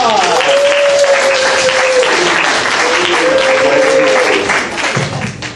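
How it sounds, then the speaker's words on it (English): An audience at a student comedy showcase claps loudly and steadily, a full round of applause with voices and a whoop or two mixed in, fading slightly at the end. "Give them a round of applause."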